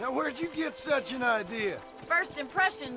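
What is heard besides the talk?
No distinct noise like a dog, phone or traffic.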